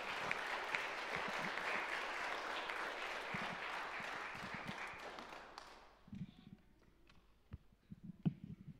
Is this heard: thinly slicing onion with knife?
no